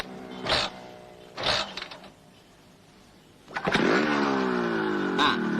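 Motorcycle engine in a 1985 Indonesian comedy film scene, heard in short revving bursts separated by pauses, then a longer steady run near the end, loud and close, with no speech over it.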